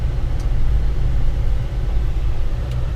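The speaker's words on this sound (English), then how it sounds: "So we're taking this Mercedes Sprinter motorhome for a little test drive here through a neighborhood." Mercedes Sprinter motorhome driving through a neighborhood, a steady low engine and road rumble heard from inside the cabin, continuous and fairly loud with no talk.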